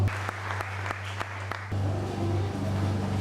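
Audience applause at the official launch of the AMESA charity, starting as spaced claps over a steady hum and swelling into a dense, continuous round of clapping.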